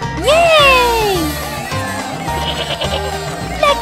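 A cartoon goat gives one loud, wavering bleat at the start. Animated characters then talk over faint background sound.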